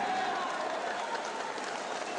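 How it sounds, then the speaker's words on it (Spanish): A crowd claps steadily at an outdoor political rally supporting Andrés Pastrana in Facatativá, Colombia, a dense continuous patter of applause heard at moderate distance. "¡Arriba ese aplauso!"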